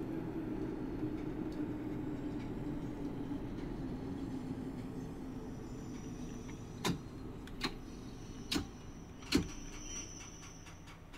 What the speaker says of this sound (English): I've just made an immediate step 2 brake application to bring our speed off quite quickly